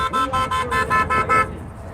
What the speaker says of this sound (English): Honk if you love freedom.